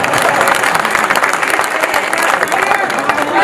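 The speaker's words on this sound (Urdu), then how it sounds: "نظم ختم ہو چکی ہے، آپ تالی بجا سکتے ہیں۔" Audience applause at a mushaira after a poem, dense continuous clapping from a large crowd with a murmur of voices mixed in, staying loud throughout.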